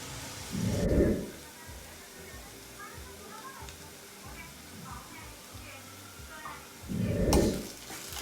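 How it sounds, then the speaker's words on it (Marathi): Onions cook in a pan for chicken keema with a soft, quiet sizzle beneath ongoing speech, broken by two louder clattering bursts near the start and end. "कांदा पूर्णपणे शिजून एकजीव झाला की मग आपण त्याच्यामध्ये जी मी मगाशी तुम्हाला प्युरी दाखवलेली ती प्युरी टाकणार आहे"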